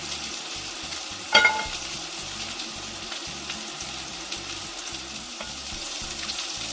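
Italian meatballs frying in a pan, a steady close sizzle running throughout with one brief louder clink or pop early on, no voices.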